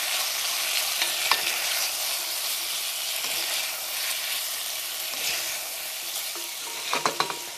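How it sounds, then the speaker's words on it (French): Carrots frying with cumin, coriander seed and paprika hiss steadily in a pan while a utensil stirs through them, closing with several quick clinks against the pan. "On mélange bien."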